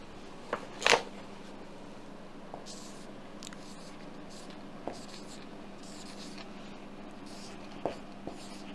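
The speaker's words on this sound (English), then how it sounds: "I'll write it down." A pen writes on paper nearby, faint scratchy strokes with a few sharper taps and rustles scattered across a quiet room.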